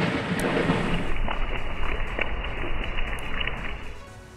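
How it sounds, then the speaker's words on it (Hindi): Heavy night rain with thunder, a loud rushing downpour with a deep rumbling swell early on, easing slightly toward the end, with no voices. "देर रात तक बारिश के साथ बिजली कड़कती रही"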